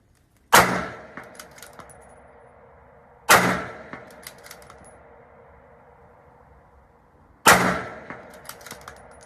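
Three sharp rifle gunshots at a long-range shooting session with a 330-yard target, each a loud crack followed by a ringing decay, spaced about three to four seconds apart with quiet in between.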